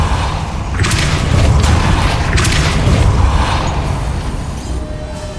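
A Depulso spell is cast in Hogwarts Legacy, a dense booming rush with heavy low thuds and scattered crackling bursts that swell and fade over several seconds, loud and near, with no talking.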